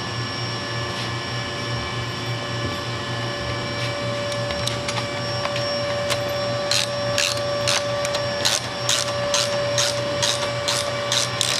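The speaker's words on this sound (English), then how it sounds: "Now we can go ahead and tighten the top bolt." A ratchet tightens the top bolt of a Big Bear Choppers motorcycle fairing bracket, fast even clicking bursts rising near the end over a constant loud hum from a nearby machine.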